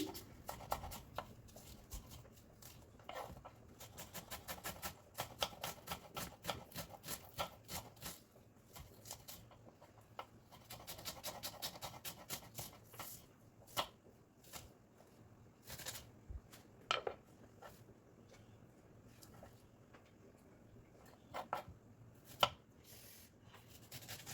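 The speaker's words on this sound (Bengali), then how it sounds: "আমি পেঁয়াজগুলোকে খুব পাতলা পাতলা করে কেটে নিব" Knife slicing onions thinly on a cutting board for prawn and lentil fritters, heard as quiet, fast runs of crisp chopping taps that come in bursts with short pauses, close but soft, with no talk.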